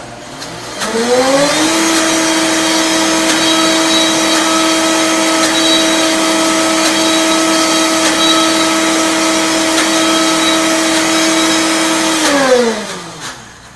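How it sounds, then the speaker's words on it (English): High-speed blender whirring loudly and evenly as it purees food smooth, spinning up at the start, holding a steady droning whine, then winding down, with no talk over it. "you want to have it nice and blended nice and smoothly, but it takes a lot of noise and you can't talk through it"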